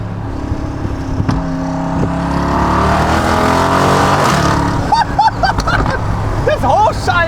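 Loud, close engine of a Mercedes G-Class rising in pitch through revs and upshifts, with sharp crackles and pops near the end and a voice talking over it.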